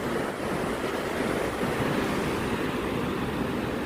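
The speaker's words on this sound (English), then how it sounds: "Gotta be careful of the waves coming in." Ocean waves roll in on a sandy beach, making a steady, continuous wash of surf mixed with wind buffeting the microphone, with no talking.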